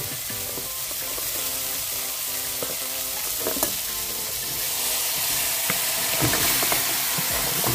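Crabs added to a pan of fried onion and tomato for Goan crab xec xec. A loud, steady sizzle fills the whole stretch, with stirring clinks and scrapes.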